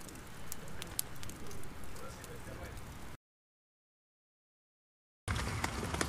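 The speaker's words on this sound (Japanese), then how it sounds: "雨降ってきました。" Steady rain patters on a tarp and gear at a lakeside campsite by Lake Saiko, a dense even hiss that runs unbroken, cuts to silence for about two seconds, then returns just as loud.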